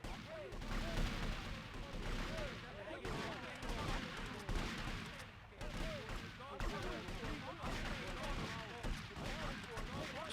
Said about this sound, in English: Time to get busted on with the shotgun real quick.